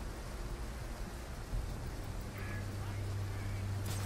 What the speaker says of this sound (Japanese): 地下で雨が降ってるわ